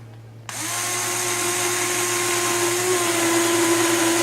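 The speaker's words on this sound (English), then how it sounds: "We're going to use our 1/8 inch bit, and we're going to drill through this piece" A power drill with a 1/8 inch bit bores through a wooden frame piece for a bell build, starting abruptly after a brief quiet moment and then holding a steady, loud, high whine to the end.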